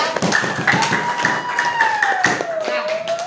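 A school class claps hands in quick, uneven bursts while a sustained tone rises and falls in the background, with scattered voices mixed in.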